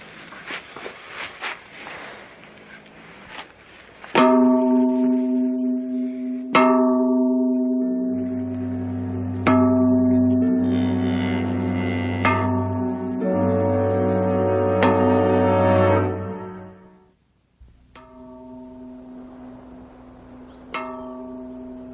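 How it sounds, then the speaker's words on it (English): A church bell tolls repeatedly with long ringing, resonant strikes and sustained hum, loud and close with no talk, the tolls spaced a few seconds apart before the ringing fades briefly and resumes. "Toll the bell, Remus."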